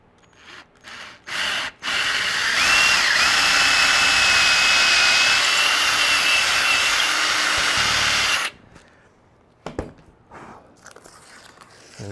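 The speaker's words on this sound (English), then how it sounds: "nervousness factor drilling into a pristinely painted guitar body" A drill bores into a painted guitar body, running as a loud, steady whine for about six seconds and then stopping. A few handling clicks and knocks come before and after.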